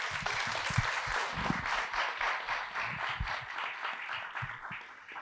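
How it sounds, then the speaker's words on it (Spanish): An audience applauds to welcome a guest author at a literary event, a dense continuous patter of many hands from a sizeable crowd, steady and moderately loud, fading slightly toward the end. "Un aplauso para Alberto."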